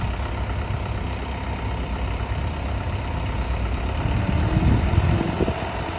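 A Toyota 6FD25 diesel forklift with automatic transmission and a 3-meter mast idles steadily, a low rumbling drone that grows slightly rougher and louder toward the end.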